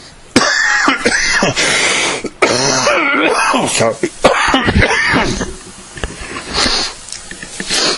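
Several sharp, harsh coughs and throat-clearing bursts, close up, with a person talking in between.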